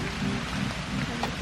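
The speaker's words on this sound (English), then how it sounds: "It's starting to pour." Heavy rain pours steadily, a dense continuous hiss with scattered louder drops and a faint low rumble underneath.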